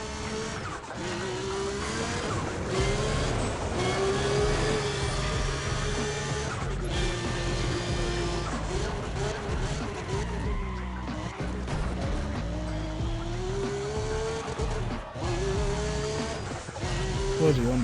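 Racing car engine from Need for Speed: ProStreet with sustained tire squeal and skidding through corners, loud and continuous throughout, with a voice talking over it.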